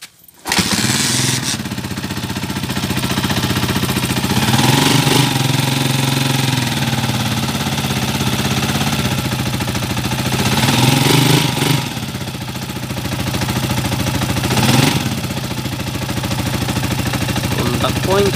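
A 28-year-old Honda TMX155 motorcycle with contact-point ignition runs before repair, its engine chugging unevenly with rhythmic surges and dips for a long stretch, loud and close, with no talk.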